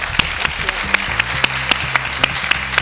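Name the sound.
applause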